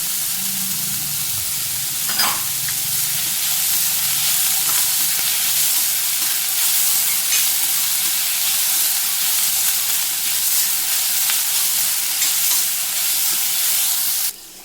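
Onion and garlic sauté in oil with dried chilies for a toor dal and drumstick leaf dish, giving a continuous loud hiss and sizzle with faint stirring, then cutting off abruptly.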